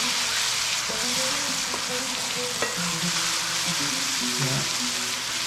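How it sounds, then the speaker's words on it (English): Garlic and onion sauté in a pan with a steady close sizzle, while a spoon stirs with soft scrapes and light clinks and faint tonal hums run underneath. "Stir this around. You don't want to burn the garlic"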